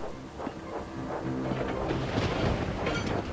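Cartoon thunderstorm effect: a continuous low rumbling roar of thunder mixed with heavy rain, loud and dense throughout, with no talking.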